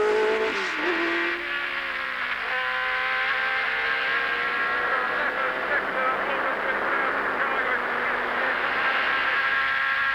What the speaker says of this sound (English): the noise of the engine proved too much